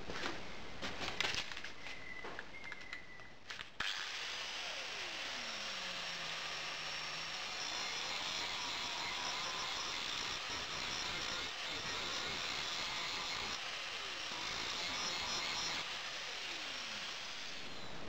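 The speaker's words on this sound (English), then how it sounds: "Now I'll show you what the sparks look like when you grind a piece of mild steel." Angle grinder grinding a piece of mild steel, a loud continuous high-pitched whine and broadband rasp that holds steady for most of the stretch, with a falling pitch sweep early on as the disc loads up.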